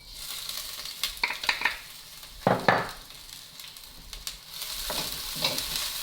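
Onions hit hot sesame oil in a pan and sizzle softly, with clusters of sharp scraping stirs and clinks of a utensil against the pan, close up, and the frying grows steadier toward the end.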